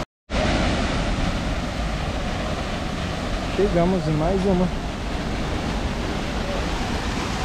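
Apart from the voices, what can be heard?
waterfall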